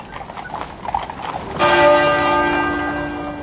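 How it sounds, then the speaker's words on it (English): A single muffled strike of the tenor bell at Westminster Abbey rings out loud and sustained, its overtones hanging and slowly fading, following a stretch of horse hooves clip-clopping in a funeral procession. "A single muffled chime, counting off the minutes to 11 o'clock."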